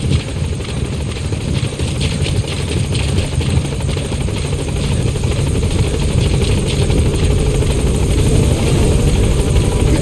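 A support helicopter arrives in Metal Gear Solid V: The Phantom Pain, a steady, loud rotor drone that holds through the whole stretch and swells slightly toward the end, with no talk over it.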